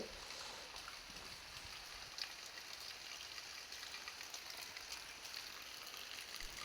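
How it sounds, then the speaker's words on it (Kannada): Soft, steady monsoon rain in Mangalore patters and hisses evenly throughout, a faint continuous wash with no voices. "ಈಗ ಮಂಗಳೂರಲ್ಲಿ ಮಳೆ ಜಾಸ್ತಿ ಆಗಿದೆ"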